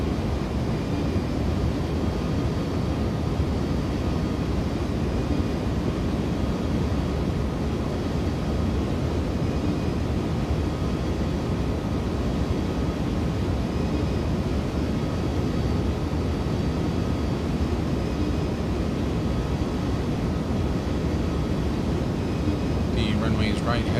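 Steady, loud engine and airflow roar inside an iniBuilds A310 airliner on final approach in X-Plane 11, a continuous drone with a faint click near the end.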